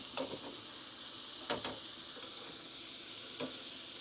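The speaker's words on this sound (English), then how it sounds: "And the heat gotta be high when you cooking these potatoes, bro." Seasoned potatoes fry on high heat for breakfast, giving a soft steady sizzle with a few sharp clicks and scrapes of stirring, quiet and close, without talk.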